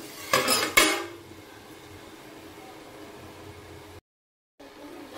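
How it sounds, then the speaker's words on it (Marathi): A pot lid is lifted off a pan of cooking vegetables, giving two brief metallic clanks near the start, followed by quiet background hiss. "मी झाकण काढून पुन्हा पाहते"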